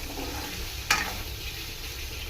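Ginger garlic paste fries in oil in a pan, giving a soft, even sizzle close by with one brief clatter of a utensil partway through.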